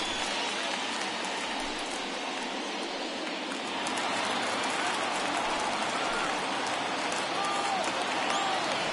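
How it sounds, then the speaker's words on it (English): Baseball crowd at an MLB game between the Angels and Royals rising on a full count, a dense, continuous roar of cheering and clapping that swells slightly partway through, heard from the stands without commentary. "Crowd gets up for the 3-2."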